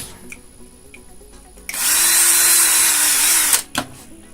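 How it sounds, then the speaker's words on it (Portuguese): A power drill bores into a part for an articulated lamp made from scrap, whirring loudly for about two seconds after a quiet start before cutting off, with small handling knocks afterward. "só para ficar mais fácil de furar e ficar na direção certa os dois furos"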